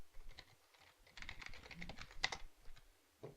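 Quick, light clicking on a computer keyboard at close range, rattling in irregular bursts with short pauses, while a voice mutters softly underneath.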